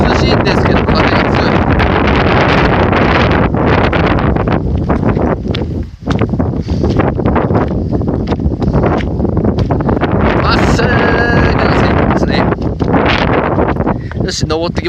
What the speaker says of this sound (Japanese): 涼しいんですけど、風が強い。